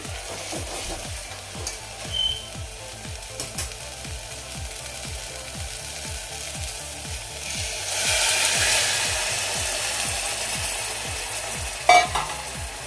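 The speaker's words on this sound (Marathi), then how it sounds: "आता हे ढवळून घेऊयात" A spoon stirs mango kadhi in a pot with a quick, regular rhythm of soft scraping strokes over a faint simmering sizzle, with one louder clack near the end.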